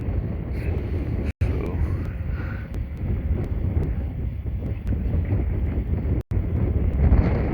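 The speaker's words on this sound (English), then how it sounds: "she's definitely fighting the wind now" Wind buffets a Fimi X8 SE drone in flight, a steady low roar and rumble filling the whole stretch, broken by two brief dropouts, with a voice talking over it.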